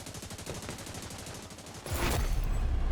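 AK rifle fire in a video game: a rapid, regular string of automatic shots, then a louder, denser burst of gunfire and noise near the end.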